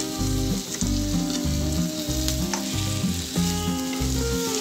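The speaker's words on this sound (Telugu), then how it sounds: "ఈ ఉల్లిపాయ పేస్ట్ పచ్చి వాసన పోయే వరకు బాగా ఫ్రై చేసుకోవాలి" Bitter gourd frying with an onion paste masala, a steady loud sizzle with a rhythmic low churning from stirring in the pan, close up and continuous, no speech.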